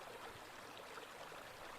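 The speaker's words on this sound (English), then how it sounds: "here at the top of the waterfall" A waterfall and stream on Mount Shasta rush in a steady, unbroken wash of flowing water, faint and even throughout with no voices.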